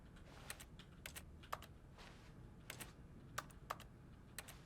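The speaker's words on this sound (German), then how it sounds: "Ich finde schön, dass meine E-Taste wie so eine Tastatur klingt." Crisp keyboard-like clicks from pressing the E key in a video game, scattered taps in an irregular rhythm over a quiet background hum, close and clear with no talking.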